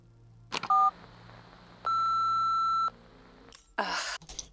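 Phone keypad dialing tones and a long steady beep from a voicemail call in the video game Nobody Wants to Die, with short tone pairs, a sustained one-second beep, then a burst of noise.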